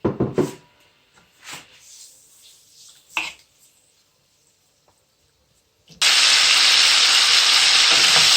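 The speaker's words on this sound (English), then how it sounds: "I'll add some vegetable oil into my frying pan here. And I'll add my prawns to it to saute for a bit." Prawns sautéing in vegetable oil in a frying pan: a few soft kitchen knocks and clatters give way to a sudden loud, steady, close sizzle that fills the final seconds.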